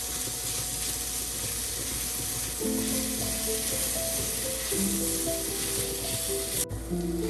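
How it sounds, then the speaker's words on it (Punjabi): Crushed garlic and ginger fry in a pan for aloo matar, a continuous bright hiss of sizzling oil layered with a droning mechanical hum that cuts out near the end. "ਹੁਣ ਲਸਣ ਅਦਰਕ ਸਾਡਾ ਭੁੱਜ ਗਿਆ ਜੀ"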